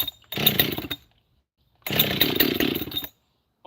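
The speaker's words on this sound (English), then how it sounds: "Let's see if it'll start." A new Husqvarna chainsaw starting up, two loud close bursts of engine roar about a second long each, separated by a short silence, with a third burst beginning at the end.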